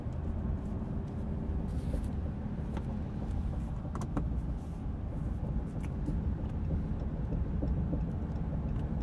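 A 2020 Ram 2500 pickup truck taking a highway on-ramp at about 50 mph, with a steady close rumble of road and tire noise and a broad whoosh of wind that holds even throughout, heard from inside the cab.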